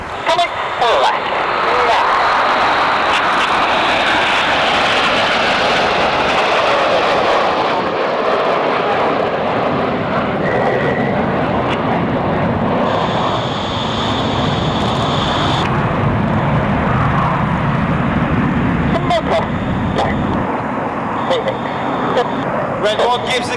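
RAF Red Arrows jets roaring overhead in formation at the RIAT airshow, a loud sustained engine roar that swells and fades over time, with a voice talking over it.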